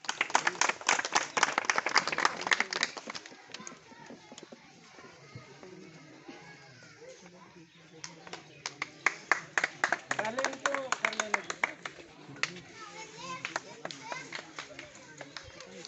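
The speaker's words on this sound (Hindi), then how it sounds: "मैं चाहूँगा जोरदार तालियों से अभिनंदन दीजिए।" A crowd at a Samta Sainik Dal gathering in India claps hard in bursts of rapid, dense applause that fade in the middle and pick up strongly again. Voices are heard over and between the claps.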